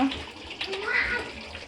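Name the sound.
water poured into biryani pot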